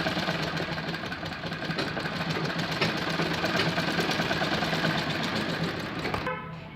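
Sewing machine running continuously at a steady rapid pace while stitching a bell sleeve, loud and close, then stopping abruptly near the end.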